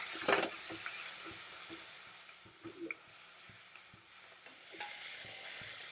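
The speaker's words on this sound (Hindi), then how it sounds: "अब हम डाल रहे हैं इसमें कटे हुए टमाटर।" Chopped tomatoes drop into a hot frying pan with a short wet splash, then a soft sizzle continues under light stirring and scraping, for a Palak Paneer recipe.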